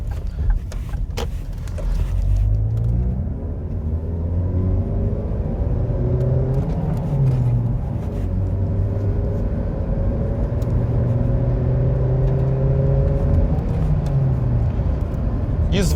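A Ford Mondeo Mk4 engine revs and accelerates steadily on asphalt, its pitch climbing through several gear changes, loud and close with continuous road rumble.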